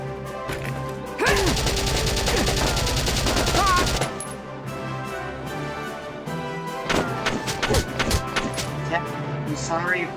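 Gunfire in the strategy game Valkyria Chronicles: a dense, loud burst of rapid automatic fire lasting a few seconds, followed by scattered sharp shots and impacts over continuous game sound.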